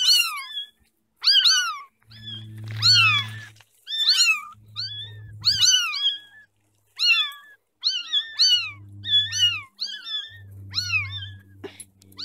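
Several kittens, four abandoned together, meow repeatedly in high, bending cries at close range, with frequent overlapping calls and short gaps, accompanied by soft low purring or rumbling bursts between them.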